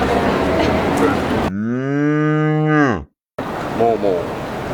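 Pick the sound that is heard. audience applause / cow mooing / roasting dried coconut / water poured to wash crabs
cow mooing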